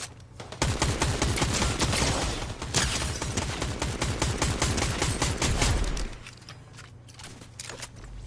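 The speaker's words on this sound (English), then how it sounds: "Who's shooting at me?" Rapid gunfire in the video game Fortnite, dense bursts of repeated shots lasting several seconds, fairly close, then cutting out to quieter background near the end.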